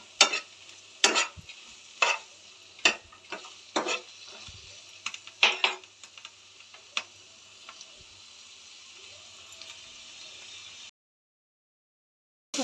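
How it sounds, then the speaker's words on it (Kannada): Coriander and tomato frying in a pan for sprouted horse gram sambar, a constant soft sizzle under repeated sharp metallic scrapes and clinks of a spoon, then a sudden cut to silence near the end. "ಕೊತ್ತಂಬರಿ ಸೊಪ್ಪು, ಟೊಮೊಟೊ ಇದೆಲ್ಲ ಚೆನ್ನಾಗಿ ನಾವು ಬ್ರೌನ್ ಕಲರ್ ಬರೋವರೆಗೂ"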